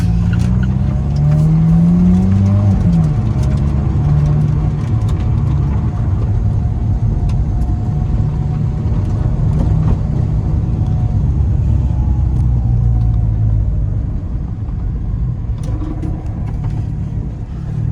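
Alfa Romeo 4C engine droning loudly and steadily from inside the cabin while driving, with rising and falling revs and shifting harmonics over a continuous road rumble, no voices.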